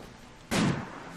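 A single sharp gunshot fires at an alpaca in the video game RimWorld, a brief close crack with a short decaying tail.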